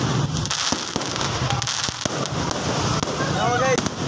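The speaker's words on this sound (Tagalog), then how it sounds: "Fireworks na guys." Fireworks explode in a steady crackling, popping barrage in Santo Tomas, Davao del Norte, with a thin rising whistle near the end and voices talking underneath.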